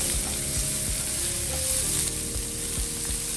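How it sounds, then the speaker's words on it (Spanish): Onion sautéing in olive oil in a frying pan, a close continuous sizzle with soft stirring knocks and thuds at intervals, no voices. "En una sartén pongo aceite de oliva y pochamos una cebolla."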